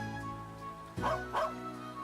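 A puppy in Trails of Cold Steel II lets out two quick, close barks about half a second apart over a quiet, hum-filled background.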